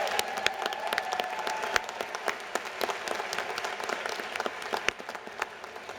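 Sustained applause from a commencement audience for Master of Education graduates, a dense steady crowd clapping with some louder individual claps standing out, heard at a moderate distance in a large venue.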